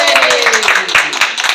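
Brief burst of audience applause, dense overlapping claps at close range, with a voice speaking over it.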